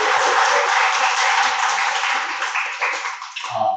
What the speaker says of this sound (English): a round of applause for everybody that's here today